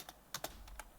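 Keys clack on a computer keyboard while HTML code is typed, a handful of quick, close, fairly faint taps in an uneven rhythm with near silence between them.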